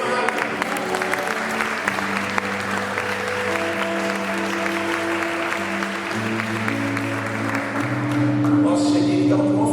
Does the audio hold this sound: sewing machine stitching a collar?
no